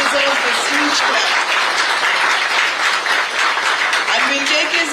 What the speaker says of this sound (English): he deserves this huge clap